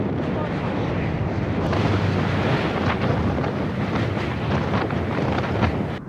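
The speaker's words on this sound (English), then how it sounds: "Getting hit by 40-mile-an-hour winds on a 100-pound bike is just surely demoralizing." Strong 40 mph wind gusts in Washoe Valley buffeting a rider on a 100-pound bike, a loud continuous roar of wind across the microphone with surging bursts, faint voice underneath.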